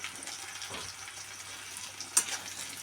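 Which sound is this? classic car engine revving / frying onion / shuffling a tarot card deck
frying onion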